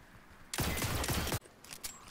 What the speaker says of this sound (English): I'm just shooting a rock.